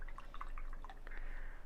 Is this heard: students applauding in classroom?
no